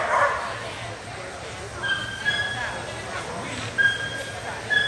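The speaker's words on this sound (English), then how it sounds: "What a dog." During a dog agility run, excited yips and short barks ring out intermittently amid an arena's ambient noise, with people talking over them throughout.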